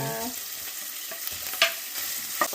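Garlic and onion sauté in a hot oiled pan for pancit, a steady close sizzle with a few clinks of a utensil stirring against the metal.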